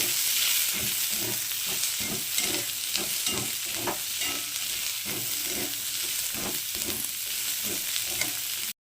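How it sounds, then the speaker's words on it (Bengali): Chopped onions, two large ones cut into squares, sizzle steadily in hot oil in a pan for chili mushroom, with repeated scraping strokes of stirring throughout, close and continuous with no talk. "পেঁয়াজগুলোকে দিয়ে দিলাম। পেঁয়াজগুলো একটু হালকা ভেজে নেব।"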